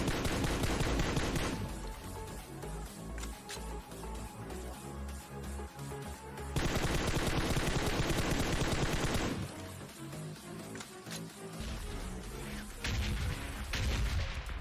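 Rapid bursts of gunfire in PUBG Mobile near a power plant, loud and close, with dense, continuous shooting that surges and fades over the whole stretch.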